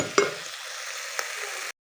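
French beans and tomato frying in oil in a pot, stirred with a spoon: a soft steady sizzle with a scrape near the start and another a second later, close and moderately quiet, no voices.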